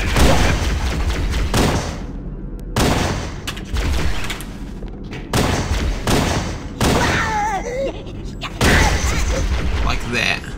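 A Grunt's head bursts from a gunshot in Halo 1 on Legendary difficulty. Loud, repeated bursts of gunfire and heavy thuds come in clusters, with brief pauses between volleys.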